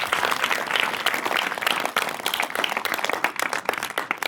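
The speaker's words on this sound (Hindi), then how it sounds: "एक बार जोरदार ताली हो जाए।" An audience at an award ceremony breaks into loud, sustained applause, many hands clapping densely and unevenly for the whole stretch, with no talk over it.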